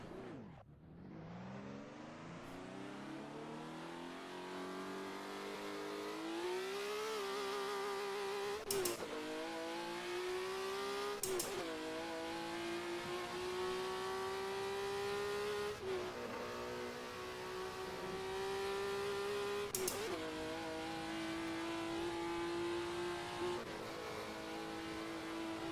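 A Nissan 380 race car engine in Assetto Corsa, running on the Riverside track, drones steadily and climbs in pitch, with sharp drops at several gear shifts over a long run.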